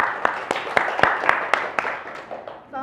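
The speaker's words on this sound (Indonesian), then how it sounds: "Sebelumnya beri tepuk tangan kepada Bapak Presiden." A small audience claps for a student president guest at a university podcast recording, a loose, fairly loud round of applause with distinct sharp claps that thins out toward the end.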